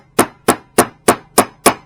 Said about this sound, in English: I can give it a little bit of love with a hammer